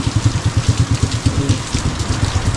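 Rain falls steadily and loudly, a dense continuous patter close by with a rapid pulsing rhythm underneath.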